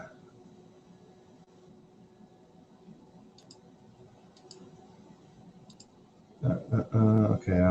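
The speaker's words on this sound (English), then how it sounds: "Okay, I'm clicking around." Computer mouse clicks, a few faint paired clicks spaced over several seconds against a quiet room hum, followed by a person talking loudly near the end.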